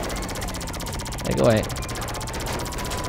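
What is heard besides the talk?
laser gun firing in GTA 5 video game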